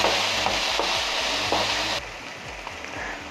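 Onions fry in oil with a steady sizzle while being stirred, with repeated scraping taps of the spoon in the pan, close and clear, with no voices.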